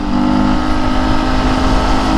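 A Vespa scooter engine running at a motorcycle show along a highway, a loud close steady drone with a strong buzzy tone, slightly rising in pitch, no talk over it.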